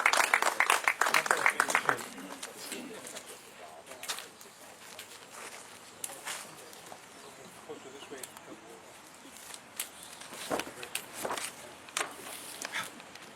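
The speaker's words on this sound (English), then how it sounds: "Please welcome him with an applause." Brief burst of audience applause welcoming a speaker at a historical society gathering in a history park, loud at the start then quickly fading into scattered claps, footsteps and murmuring room noise.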